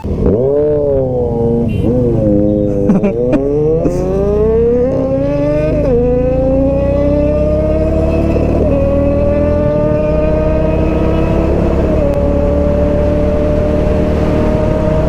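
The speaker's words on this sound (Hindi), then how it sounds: "भाई बाइक वहाँ पे है और यहाँ तक इतना प्रोमिनेंट आवाज आ रहा है, कितनी लाउड है।" A Kawasaki Ninja 1000 motorcycle engine roars loud and close on a highway, revving up through several gear shifts with rising pitch, then settling into a sustained high-speed drone.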